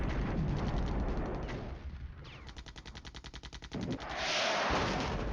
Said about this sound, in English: we are firing ATGMs again